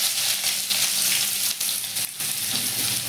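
Chopped onion hits hot oil in a kadai along with bay leaf and cumin, giving a loud, continuous close sizzle with faint stirring scrapes.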